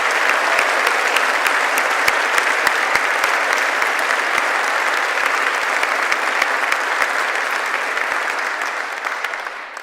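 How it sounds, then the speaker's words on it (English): An audience at a conservation benefit concert claps loudly and continuously, a thick wash of many hands that tapers slightly toward the end, with no talking. "I'd like to give them a round of applause on behalf of the Defenders."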